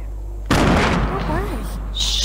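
A grenade going off in a Fortnite Battle Royale squads match: a sudden loud blast that rolls into a short, noisy rumble lasting over a second and a half, with a brief higher burst near the end.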